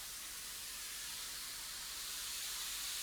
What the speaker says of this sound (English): it's liquid, so it's going to kind of steam the cauliflower